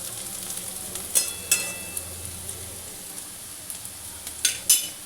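Bitter gourd frying in a pan, a soft steady sizzle with occasional sharp crackles and pops and a few light scrapes of stirring, close and fairly quiet.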